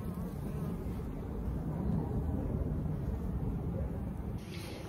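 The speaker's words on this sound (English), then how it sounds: "those are bees underneath there that are getting ready to hatch" Dense, steady buzzing of many honey bees in an open hive box with brood, a close continuous drone without talk.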